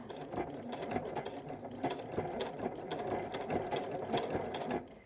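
A sewing machine blanket stitches around an appliquéd fabric heart backed with interfacing, a close, fast rhythmic chatter of needle strokes running steadily without a break.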